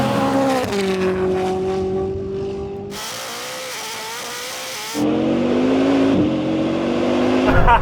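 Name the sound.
Bugatti Chiron Super Sport accelerating in a drag race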